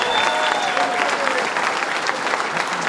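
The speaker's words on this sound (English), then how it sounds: "Let's give him a big round of applause, Mayor Dole." Sustained, even applause from an audience for Mayor Dole at a power plant event rolls on loudly without a break, a crowd clapping together with a faint tone and murmur beneath.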